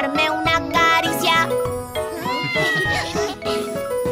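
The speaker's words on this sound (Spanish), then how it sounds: "Es un gatito pelirrojo. ¡Miau, miau, miau, miau, miau, miau!" Cartoon cat meows sung over a bright, busy children's song with jingling accompaniment, the melodic meow phrases loud and upfront throughout.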